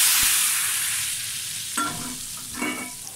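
Garlic fried until browned sizzles in hot oil as it is poured into a pot of daal, a steady frying hiss with two louder bursts of sizzle near the end and no talking.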